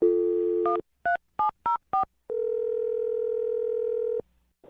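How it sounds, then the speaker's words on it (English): A telephone dial tone, then a run of five short, evenly spaced touch-tone beeps as a number is dialed, followed by a long steady ringback-like tone, loud and clear with no voices. "I'm going to dial her phone number right now"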